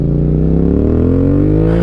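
A motor vehicle revs loudly and close as it passes, its engine pitch climbing steadily, alone with no talk.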